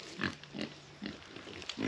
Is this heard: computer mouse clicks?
no